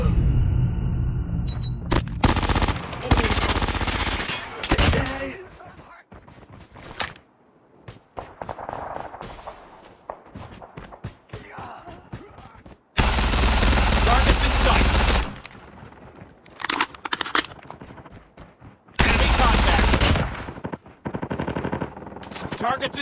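Gunfire in Call of Duty Mobile, rapid automatic bursts and loud volleys coming in dense clusters with short quiet gaps between them, with brief game voice callouts mixed in.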